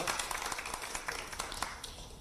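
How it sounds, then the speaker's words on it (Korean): Applause and scattered clapping from attendees at a political party meeting on capital-market issues, greeting an arriving committee chair; dense, steady clapping with sharp individual claps throughout, moderately distant. "이미자 기재위원장님 참석하셨습니다. 힘찬 박수 부탁드립니다."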